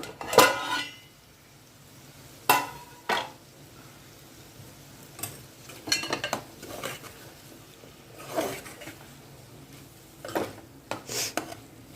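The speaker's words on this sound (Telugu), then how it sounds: "ఇప్పుడు ఒకసారి ఓపెన్ చేసి లిడ్ ఓపెన్ చేసి చూసుకుందాం" A lid comes off a cooking pot of brinjal and prawn curry, with sharp metal clanks and clatters at irregular intervals over a faint sizzle nearby.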